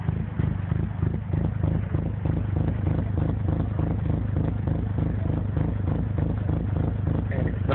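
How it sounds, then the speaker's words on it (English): A tuned car engine fitted with stage 2 CompCams camshafts idles with a steady lumpy, choppy rhythm, a continuous close rumble that never revs up, heard alone without talk. "this is for those of you who don't know what my car sounds like"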